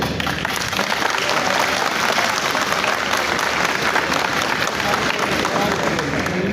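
An audience of engineers at a formal event applauds steadily and loudly, a dense sustained wash of clapping that fills the whole stretch.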